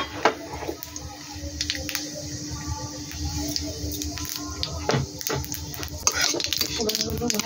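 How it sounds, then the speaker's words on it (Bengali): Whole spices tipped into hot oil in a wok for a tamarind chutney for chaat, heard as clattering metal and stirring scrapes with a faint, soft sizzle in a kitchen. "ফোড়ন ঢেলে দিচ্ছি"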